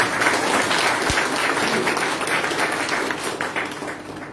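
Sustained applause from a sizable audience at a Brahmin community event, steady dense clapping that gradually thins and softens toward the end.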